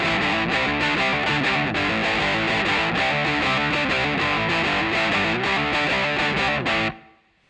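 A distorted electric guitar in drop D tuning plays the main riff of a song, dense chugging power chords in a driving rhythm, loud and alone, then ringing out and fading at the end.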